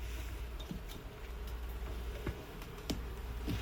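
Bees buzzing inside a building wall that has been cut open up to the crown, a steady low insect drone with faint wingbeat hum and a few soft ticks and knocks.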